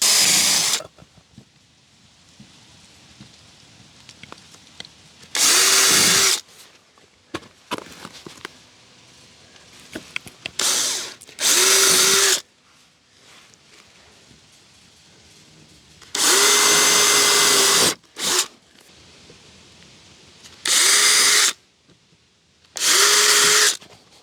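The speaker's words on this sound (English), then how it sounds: "that's where I will drill the pilot holes on this side" A power drill bores pilot holes in deck cladding boards in about six loud, high-pitched whirring bursts of one to two seconds each. Quieter handling and shuffling sounds fill the pauses between them.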